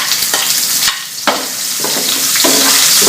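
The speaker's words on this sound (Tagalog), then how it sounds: "after sa ginger, we're going to saute our red onions" Red onions sauteing with ginger and garlic in a hot pan for a T-bone steak and vegetable stir fry give a loud, steady sizzle broken by repeated spatula stirring strokes.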